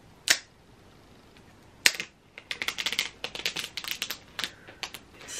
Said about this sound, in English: we can experience the ASMR plastic unwrapping experience together